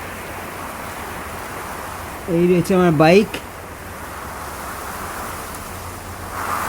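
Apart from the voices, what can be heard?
strong cold wind on a bridge over the Teesta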